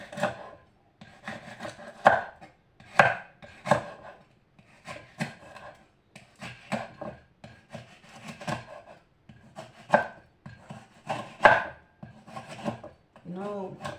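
A knife slices through frozen-then-washed food on a board in a home kitchen, the cuts landing as a steady series of sharp chopping strokes with short pauses between them, close and fairly loud.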